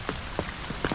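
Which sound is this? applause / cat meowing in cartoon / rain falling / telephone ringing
rain falling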